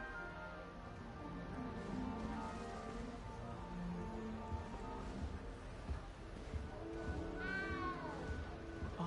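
A small, frightened cat in Hogwarts Legacy gives repeated drawn-out meows over a soft ambient game background, with a rising cry near the end.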